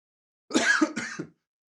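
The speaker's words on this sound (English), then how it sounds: "coughing, a lot of coughing" Two short, harsh coughs close by, one right after the other, with no talking around them.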